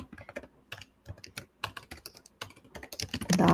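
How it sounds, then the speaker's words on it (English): Someone types on a computer keyboard in quick irregular bursts of close, crisp key clicks with brief pauses, ending in a denser flurry of keystrokes. "my typing is, like, not as fast, and I have a lot of typos"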